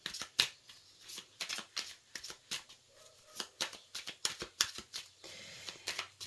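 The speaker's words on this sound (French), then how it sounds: "Frédéric, nous allons brasser, brasser, brasser." Tarot cards are shuffled for a cartomancy reading: a quick run of crisp, riffling card slaps and flicks close up, in irregular bursts with short pauses between them, quiet and with no talk over it.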